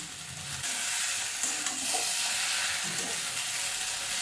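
Vegetables with coriander powder are stirred in a hot pan over a steady loud sizzle and hiss, with soft scraping strokes of the spoon against the pan coming through now and then.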